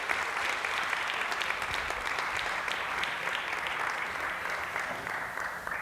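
Sustained applause from an audience at a food and wine talk, dense steady clapping filling the room at a moderate level without fading.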